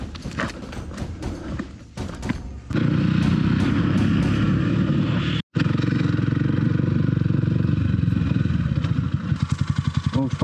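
A motorcycle arriving beside a river in northern Vietnam, its engine rumble swelling from faint to a loud, steady near drone after a few seconds, with a brief dropout midway and scattered clatter before it arrives.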